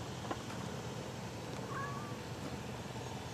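A small kitten lets out a faint, short meow, a single thin cry heard softly against a quiet indoor background.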